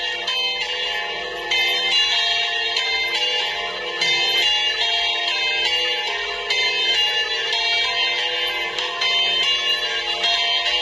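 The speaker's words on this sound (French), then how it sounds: "voilà la cloche" A church bell rings steadily and loudly, its bright sustained tones continuous throughout with no talking.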